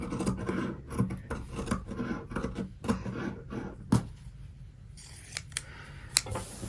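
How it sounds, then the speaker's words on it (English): Pinking shears snip along the fabric of a dress side and sleeve seam in a quick, rhythmic run of close cuts, then a few slower, sparser snips in a quiet room. "We're just going to pinking shear that as well for neatening."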